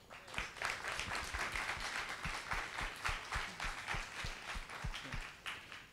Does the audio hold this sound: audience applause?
yes